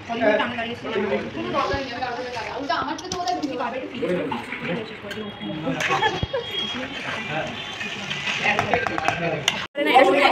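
Boiled pasta being stirred in a pan during a cooking class, with clinks and scrapes of utensils against the pan under nearly constant lively chatter, ending in a sharp clatter.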